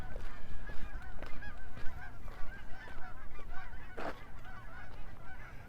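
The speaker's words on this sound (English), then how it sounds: "A V of geese going over" A flock of geese flies over a park in Regina in early April. Their repeated honks overlap continuously, clear and moderately close, above outdoor ambience.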